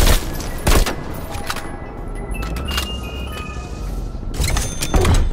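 SMG gunfire on the Firebase Z map of a video game, sharp bursts near the start and end with quieter shooting and game noise in between.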